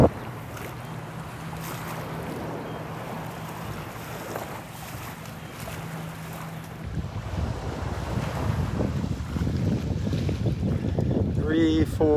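A boat carrying passengers from Tarpon Cove pulls up at Delnor-Wiggins beach, its low motor hum steady at first, then giving way to louder surf and wind, with a voice briefly heard near the end.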